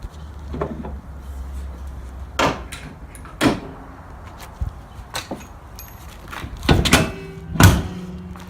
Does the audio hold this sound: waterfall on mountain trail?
no